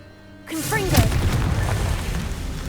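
A Confringo blasting spell from Hogwarts Legacy detonates with a sudden loud boom, followed by a sustained crackling, rumbling fiery burst.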